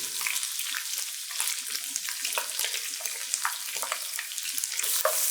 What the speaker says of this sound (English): I'm going to stir this in, cook for another 2 or 3 minutes until it gets nice and fragrant